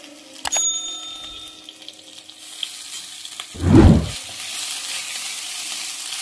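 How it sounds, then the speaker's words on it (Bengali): Onion paste frying in oil in a pan, a soft crackling sizzle that surges loudly for a moment when stirred, then settles into a steady hiss, with a bright metallic clink early on. "এবার আমি ভালো করে ভেজে নিচ্ছি।"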